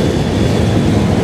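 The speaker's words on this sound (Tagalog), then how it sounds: "Ayan yung LRT papunta ng Dr. Santos Avenue." An LRT light rail train rumbling past near Rizal Park, loud and close with a dense, continuous roar across the brief moment heard.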